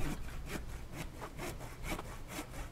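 Logs being sawn on a saw bench in the survival video game The Infected, a rhythmic back-and-forth rasp of about six even strokes, close and continuous with no talk.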